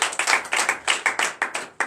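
A congregation at a morning prayer service clapping in a quick, steady rhythmic beat, loud and close, about a dozen sharp claps in under two seconds with no talk.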